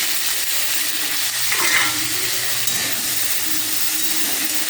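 Washed potatoes hit hot oil already crisping chilies and fry in a loud, dense sizzle, with a brief burst of stirring near the middle, close up and without talk.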